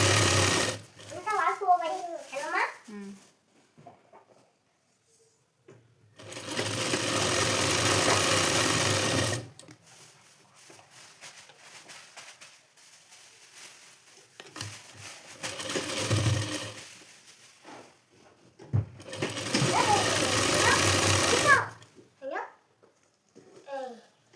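A sewing machine stitches a blouse in three sustained bursts of close, steady whirring, with a voice talking in the gaps between them.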